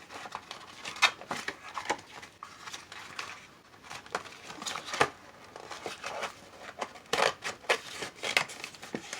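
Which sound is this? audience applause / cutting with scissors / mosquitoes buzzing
cutting with scissors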